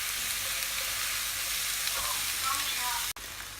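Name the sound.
stir frying onion, capsicum and zucchini over high heat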